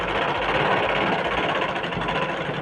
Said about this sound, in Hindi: इस तरह से बिल्कुल सीधी सिलाई 2-3 सिलाई चला देना है।